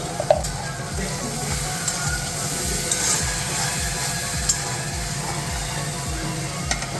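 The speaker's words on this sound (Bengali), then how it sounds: "মশলাটাকে এখন ভালোভাবে আমি কষিয়ে নেব" Spice masala of salt, turmeric and Kashmiri red chilli powder sizzles steadily in a pan for a kochia fish curry. Rhythmic scraping stir strokes repeat throughout, close and fairly loud.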